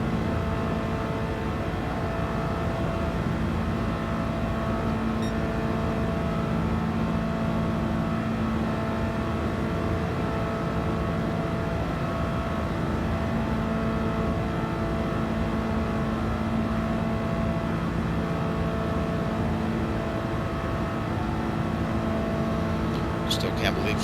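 A 2021 Subaru BRZ running flat out in sixth gear at around 199 on the Route X circuit, its engine a sustained, tonal high-rev drone with strong harmonic whine, loud and steady throughout.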